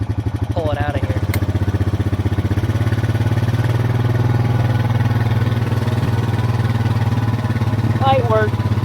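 A farm tractor hooked up to equipment pulls out in four-wheel drive, its engine a steady, fairly loud low drone that holds throughout with little change in pitch.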